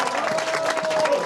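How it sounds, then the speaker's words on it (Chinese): An audience bursts into sustained applause welcoming party chairman Ko Wen-je, dense clapping from a crowd, loud and continuous throughout. "我们热烈的掌声欢迎呐！"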